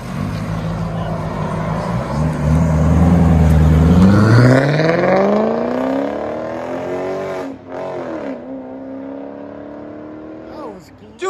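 A straight-piped BMW 545i V8 on M5 wheels revs loudly and close, its deep exhaust note climbing in pitch and then falling back, with a second brief blip near the end.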